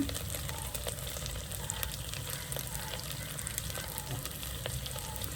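Green chilies and dried red chilies fry in a pan with a steady, dense sizzle and crackle throughout, close and continuous, with a few sharper pops rising above the hiss.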